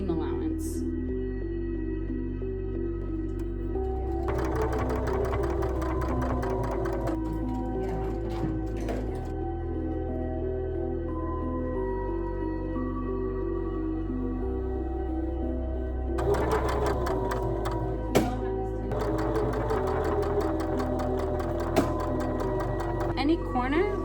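A sewing machine stitching a pillow, its motor whirring in steady bursts with rapid needle ticking, heard up close beneath a voice speaking throughout.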